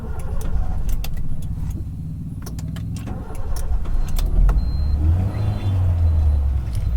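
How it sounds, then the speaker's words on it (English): A CNG-equipped car is started with the ignition key: key jingles and clicks, a brief cranking, then the engine catches and settles into a steady low idle rumble, close and loud, with no talking. "right now I'm going to start the car"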